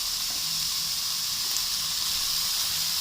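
Steamed broccoli frying in hot oil with vegetables, a constant close sizzling hiss that stays even and unbroken throughout.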